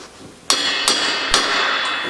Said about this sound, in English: And then I'm just going to use a hammer